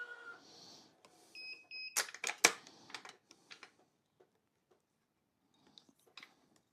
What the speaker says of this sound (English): That long beep just means it ran out of travel before it got to tension.